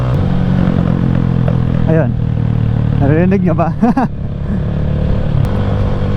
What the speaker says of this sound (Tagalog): Hindi ko alam kung naririnig nyo sa background ko pag nagde-decelerate ako, yung puffing sound ko.